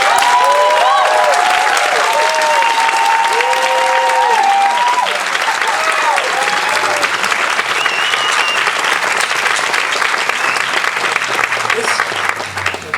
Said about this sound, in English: Can I get another round of applause for this great...